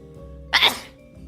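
A single close, loud sneeze bursts out over quiet background hum during a casual livestream chat, lasting about half a second before fading.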